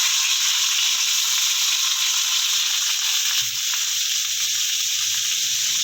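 Chili, tomato and boiled figs fry in a pan for a vegetarian fig curry, giving a steady, bright sizzling hiss that runs unbroken throughout, with a faint low clatter partway through.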